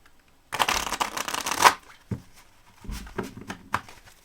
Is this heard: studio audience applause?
no